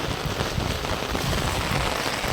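Heavy, unbroken rain pours down steadily over farmland with a flooded cotton field, a dense, even hiss with no pauses and no voices.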